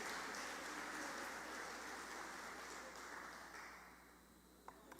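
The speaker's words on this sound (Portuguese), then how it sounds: "pode aplaudir o Senhor" A church congregation applauds during a Portuguese-language sermon, producing a dense, steady wash of clapping that fades gradually toward the end, distant and fairly faint.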